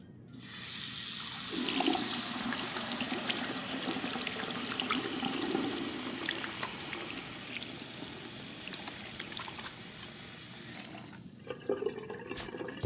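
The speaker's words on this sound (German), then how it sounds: "Wasserhahn waschen." Water runs steadily from a faucet in the video game Life is Strange 2, a continuous hissing splash that starts abruptly, holds for about ten seconds, then cuts off, alone without talk.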